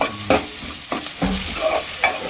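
Onions and green chilies sizzle in a pan for Telangana goat boti curry as a spoon stirs them in several quick scraping strokes over a continuous fry hiss.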